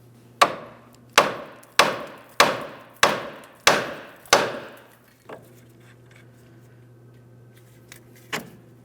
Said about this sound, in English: now we're going to use a hammer and lightly tap on the steering knuckle